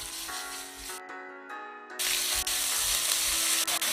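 Chili peppers stir-frying in a generous amount of cooking oil, a loud steady sizzle that briefly dips then surges back stronger and continues without talk.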